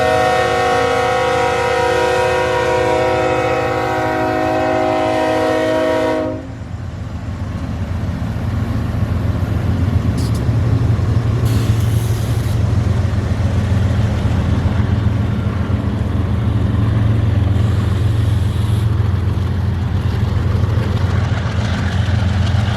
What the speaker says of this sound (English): we got there just in time to see this train get a crew and start moving